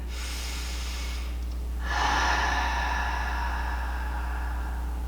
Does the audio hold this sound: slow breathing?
yes